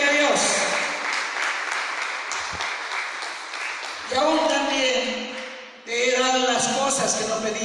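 A church congregation applauds loudly after a call to praise the Lord, sustained clapping that dips briefly then swells again, with music and voices rising under it in the second half.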